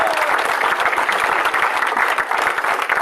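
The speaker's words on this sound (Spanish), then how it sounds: "Dele aplausos a Dios en esta noche." A church congregation claps together in sustained, dense applause, loud and close, with a faint voice or two beneath the clapping.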